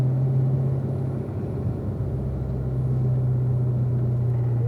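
Corvette at full throttle on a racetrack, a steady low engine roar heard from some distance, constant and unbroken with no talk.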